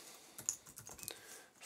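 Keys tapped on a computer keyboard while entering a symptom into homeopathy software, a short run of light, irregular clicks close up and fairly quiet, with no speech.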